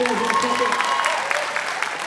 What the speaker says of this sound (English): How about a huge round of applause for our dancers?